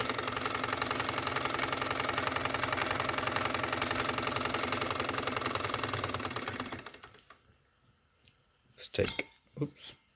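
A Wilesco D409 model showman's steam engine runs with a fast, even mechanical chatter for several seconds, then winds down and stops, followed by a few sharp clicks and a brief bump.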